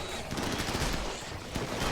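Dense, continuous gunfire from a RimWorld battle, rapid overlapping shots in a steady loud barrage throughout the short stretch, with no clear pauses.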